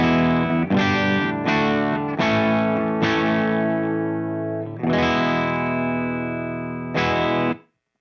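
Electric guitar chords ring out through an Orange OR15 amp with a mostly clean, edge-of-breakup tone and slight grit, strummed in several separate hits and left to sustain.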